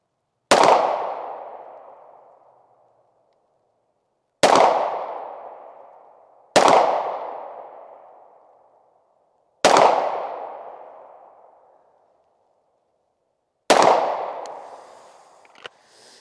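Five pistol shots fired at a target from 25 yards on a shooting range, each a sharp loud crack with a ringing tail, spaced a few seconds apart, the first three close together and the last two farther apart.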